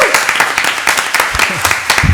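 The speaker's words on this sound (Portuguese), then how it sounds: "Tô achando que o objetivo da Bianca era ser aplaudida, gente. Conseguiu." An audience at a Pecha Kucha conference session claps after a presentation, a short burst of fairly close, uneven applause mixed with some voices.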